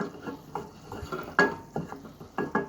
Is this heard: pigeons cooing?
no